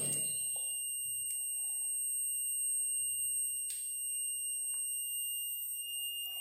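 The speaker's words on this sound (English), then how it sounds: "this is a buzzer sound" A continuous high-pitched multimeter continuity buzzer tone holds steady throughout while testing a wire, with faint clicks and light handling noises underneath.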